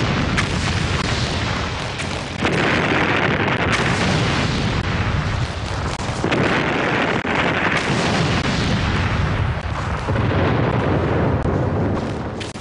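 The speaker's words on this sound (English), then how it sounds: "For 7 days and 7 nights, the ground shook under the constant impact of light and heavy shells." A First World War artillery bombardment at the Somme: heavy and light shells explode in a relentless barrage of loud booms that rolls on without pause, the blasts overlapping into one continuous roar.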